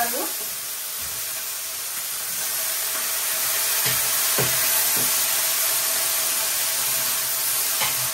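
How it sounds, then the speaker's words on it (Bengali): Sliced vegetables and potato sizzle in a pan of fried onions, a steady loud frying hiss with a few soft clinks and stirring taps throughout. "এখানে পেঁয়াজটা ভাজা হয়ে এই সবজিটা দিয়ে দেবো"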